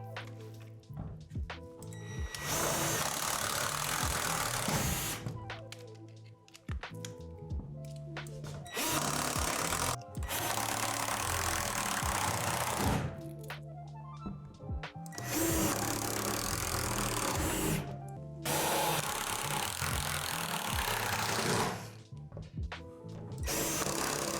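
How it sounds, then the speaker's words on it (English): Power driver sinking screws into the window divots of a Lifetime 15 x 8 ft plastic outdoor storage shed, several long whirring runs of a few seconds each, separated by short quiet gaps, close and steady. "Locate the 4 divots on each side of the window and insert your screws"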